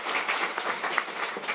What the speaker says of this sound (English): Can we give our panel a round of applause, please, for their contributions so far?